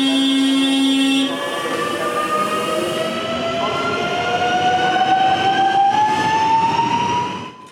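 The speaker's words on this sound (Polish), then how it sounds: "Pod koniec lutego na śląskie tory wyjechały trzy nowoczesne pociągi Impuls 2 znajdujące się w taborze kolei śląskich" A modern Impuls 2 passenger train runs on Silesian railway tracks close by, its electric drive whining in rising tones over the rumble of the wheels, then fading as it passes.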